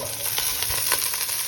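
Figs dropped into onions frying until reddish, a close steady sizzle with a few soft stirring scrapes, continuous over a short stretch, no voices.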